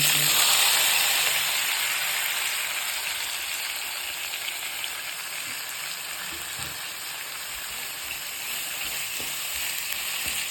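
Chana dal sizzling in hot tempering oil in a pan, a steady loud bright frying hiss that continues throughout with occasional faint stirring.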